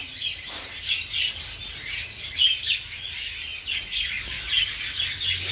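Small exotic finches such as society finches, zebra finches and Gouldian finches chirp continuously near nesting boxes, with steady overlapping high tweets and calls throughout.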